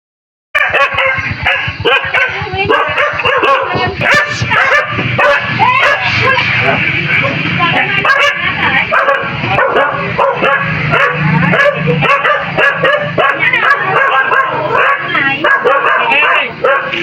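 Several dogs bark repeatedly and loudly up close, with yips and whimpers mixed in, a continuous noisy chorus throughout.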